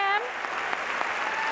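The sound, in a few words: audience applause for the actors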